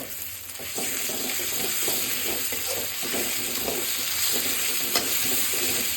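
Onions and crushed garlic fry in a pan while being stirred, a continuous close sizzle broken by repeated scraping strokes of the spoon throughout.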